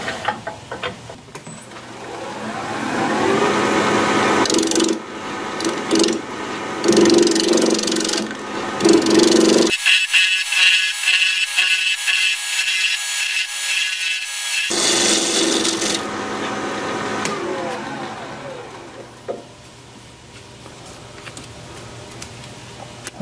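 Wood lathe turning as a gouge flattens the bottom of a spinning workpiece, giving a loud continuous rough scraping and rubbing with a brief break midway, then a softer tail.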